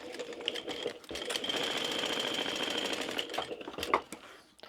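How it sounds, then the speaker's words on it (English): A sewing machine stitches down the side of fabric for a small crossbody wristlet bag, a steady rapid mechanical whir with brief pauses and restarts, close and fairly quiet. "I'm going to stitch down either side."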